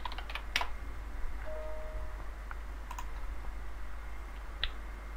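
A few sparse clicks of computer keyboard typing, short taps scattered across the stretch over a low steady hum, quiet and close with long gaps between keystrokes.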